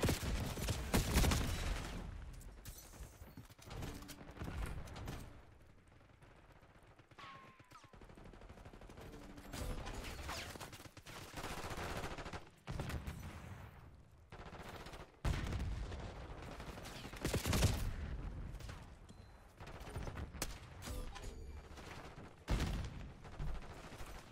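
Rapid bursts of Tanto .22 submachine gun fire in Black Ops 6, loud, close and repeated across the clip with short pauses between bursts, plus some game effects.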